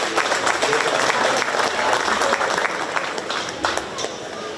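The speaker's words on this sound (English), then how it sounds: "Let's give these young people a round of applause" An audience at a county fair 4H/FFA market beef livestock show gives dense, sustained applause that stays loud and even throughout, with some crowd murmur underneath.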